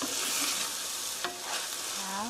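Ketchup stir-frying in a pan for beef sauce, a dense, steady sizzle with a brief scrape of the utensil partway through.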